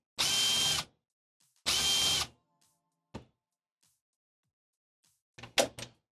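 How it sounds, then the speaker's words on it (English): A power driver removing four captive screws from a Paragon M lighting module: two loud, close whirring bursts of about half a second each, followed by faint clicks and a few short rattling handling knocks. "we're going to remove these 4 screws that are holding it in"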